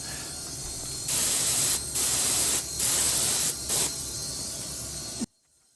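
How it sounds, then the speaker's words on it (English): A finishing paint spray gun hisses in four short bursts, with a quieter background hiss between them, then everything cuts out. "The type of spray gun that we're using here is a finishing spray gun for little localised jobs."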